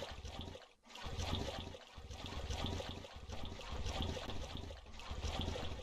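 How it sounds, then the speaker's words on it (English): A Megalosaurus in the Beasts of Bermuda video game drinks water, making a continuous, fairly quiet splashing trickle with a few short pauses and no voices. "Oh, finally, our first drink of water."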